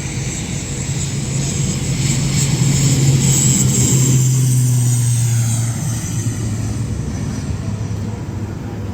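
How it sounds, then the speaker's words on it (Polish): A small propeller airplane takes off at an airport near El Nido, Palawan, its steady, loud engine drone holding throughout and swelling slightly midway before easing off. "To jest najmniejszy samolot, jakim będę leciał. Właśnie taki sam startuje."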